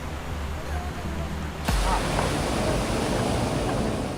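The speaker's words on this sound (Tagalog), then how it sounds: "ang mga kawayang tapakan hinahampas na ng malakas na agos ng tubig" A strong river current rushes against a bamboo footbridge in Mindoro, a dense, steady roar of churning water, loud and close, that swells sharply partway through as wind buffets the microphone.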